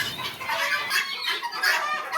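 Japanese quail calling in a breeding setup in Jamalpur, a dense, continuous chorus of bright chirping and clucking bird calls, fairly close and steady, with no talk.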